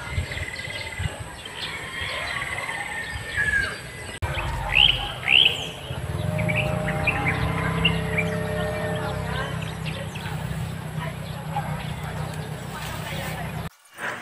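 Birds chirping and calling at an open kite-flying field, brief tweets scattered through a steady breezy background while someone speaks over them.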